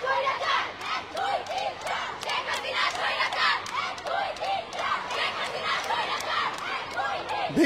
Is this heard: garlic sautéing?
no